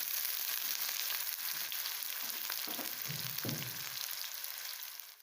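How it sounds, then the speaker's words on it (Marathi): Chopped onion fries in hot oil with cumin and mustard seeds while cooking kanda pohe, giving a steady, loud, continuous sizzle throughout, with a faint stirring clatter partway through. "आता कांदा चांगला आपल्याला मिक्स करून घ्यायचा, तेलात परतून घ्यायचा आहे"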